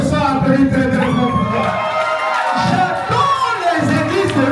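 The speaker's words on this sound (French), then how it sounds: "si tu es de l'église de réveil, ce soir, applaudis très très fort" Wedding dinner guests cheer and whoop loudly in a sustained crowd roar, with shouting voices rising and falling throughout.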